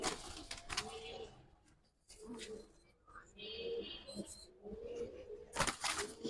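Giribaz pigeons coo in low, soft repeated phrases at a market stall, with traders talking over and between the calls throughout.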